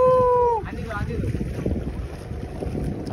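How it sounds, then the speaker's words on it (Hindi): A fishing boat engine off Bandra in Mumbai churns as a low, rough rumble under gusting wind and water noise, after a brief tonal whine at the start, with faint voices nearby. "इंजन बंद करना है."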